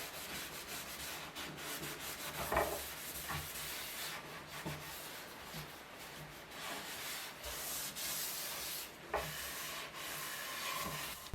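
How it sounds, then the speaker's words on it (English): 0000 wire wool rubs over a wood finish between coats, giving steady close scratchy strokes with a soft hiss and no other sounds. "with a 4-0 wire wool between each coat, just to clean up the surface a little bit"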